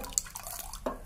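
A couple of soft wet drips and pats as water is dabbed onto a jowar roti, brief and quiet, in an otherwise calm room.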